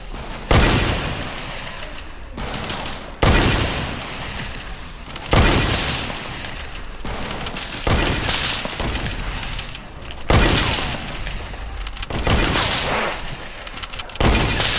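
Gunfire from a hunting shotgun in a one-on-one match on a playground map in a video game: six sharp, loud blasts at irregular intervals, each followed by a long rumbling tail, with no talk.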